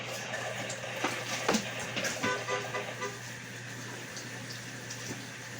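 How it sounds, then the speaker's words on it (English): A plastic cutting tray used for chopping green onions is rinsed under a kitchen tap. Running water splashes and gurgles continuously, close but fairly quiet, with a low steady hum beneath. "I'm just rinsing it up and giving it a third rinse from the onions that I chop my stuff up on."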